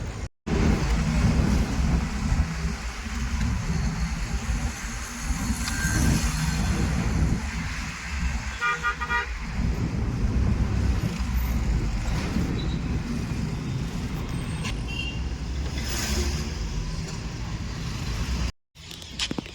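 Steady road rumble and wind noise fill the cabin of a Maruti Eeco van riding along a ring road, loud and continuous, with a faint high whine midway and a brief dropout near the end.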